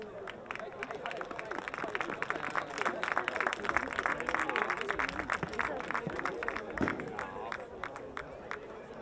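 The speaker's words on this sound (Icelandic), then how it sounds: "Við skulum gefa þeim gott klapp." Crowd applause for players at a youth women's football match in Selfoss, Iceland, with steady sustained clapping and a light murmur of voices throughout, fairly loud and continuous.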